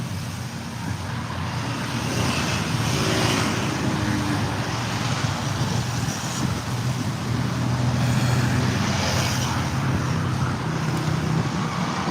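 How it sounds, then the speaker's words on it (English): Busy street traffic of cars and motorcycles, a steady loud roadway roar with engine drone and wind buffeting the microphone throughout, no clear single pass standing out. "lots and lots of cars and motorcycles."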